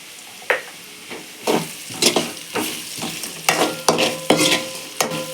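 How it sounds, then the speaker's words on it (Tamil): Spices with turmeric being sautéed in a pan, with a steady sizzle under repeated scraping strokes of a spoon stirring at a quick, irregular rhythm, close and fairly loud with no talk. "நல்லா வதங்கட்டும் இதில் கொஞ்சம் மஞ்சத்தூள் போட்டுக்கலாம்"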